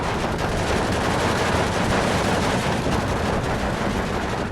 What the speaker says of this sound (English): Using my MG42s effectively.